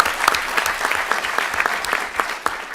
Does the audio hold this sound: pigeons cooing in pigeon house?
no